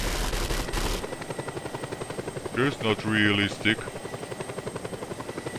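Helicopter in the video game Just Cause 2, its rotor beating in a steady rapid pulse throughout, with someone talking briefly over it midway.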